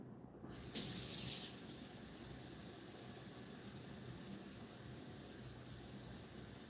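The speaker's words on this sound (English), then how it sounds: "I filled up a spray bottle with water" Tap water runs steadily into a plastic spray bottle, a broad even rush that stays constant throughout with a brief brighter splash near the start and no voices.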